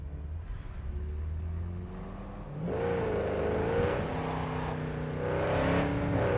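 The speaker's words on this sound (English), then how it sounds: "I love the sound of the Javelina's engine. It's a very visceral, raucous sound without being harsh." At a hill climb, the engine of a Quadra Type 66 Javelina race car rumbles low, then surges loud and close as it accelerates, revs rising and wavering through the rest of the run.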